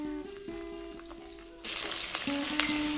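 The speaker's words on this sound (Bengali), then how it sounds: "মাছগুলোকে উল্টে পাল্টে লাল করে ভেজে নেব" Katla fish pieces frying in a little oil, a soft sizzle that swells into a brighter, louder crackle partway through, with a steady tonal hum and a few clinks underneath.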